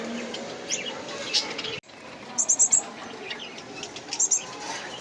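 Gouldian finches flutter with soft wingbeats, then burst into short clusters of high, bright chirps, a couple of quick repeated bouts close by.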